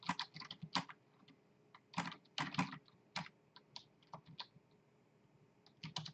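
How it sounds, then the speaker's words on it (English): Quiet, close keyboard typing in irregular bursts of quick clicks, with short pauses between clusters of keystrokes. "So I'm typing HTML here that is going to be injected into the page"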